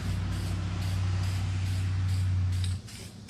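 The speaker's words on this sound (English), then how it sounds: "I want to hit it with some general purpose primer" Aerosol can spraying general purpose primer onto a car body, a steady close hiss lasting a few seconds before cutting off, with a low hum underneath.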